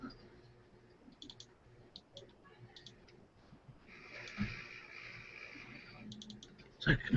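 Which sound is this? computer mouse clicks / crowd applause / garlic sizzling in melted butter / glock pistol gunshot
computer mouse clicks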